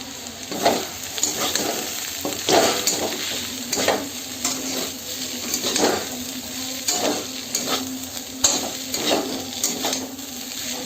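Eggs frying in a pan for chow mein, with repeated scraping strokes of a spatula against the pan over a steady sizzle, close and moderately loud, with no voices.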